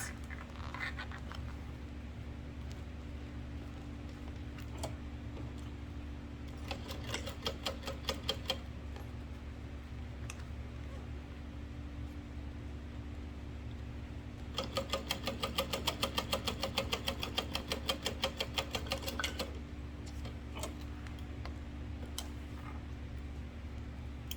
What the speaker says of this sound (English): we're going to top stitch just through the exterior and the seam allowance